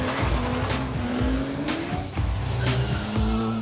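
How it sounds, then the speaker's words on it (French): Two Skoda Fabia R5 rally cars drift through a factory's assembly lines and paint shop, engines revving hard and tires squealing continuously, loud and close, with skids and gear changes layered throughout. "Glissade, dérapage contrôlé au milieu des lignes d'assemblage et de l'atelier peinture de l'usine."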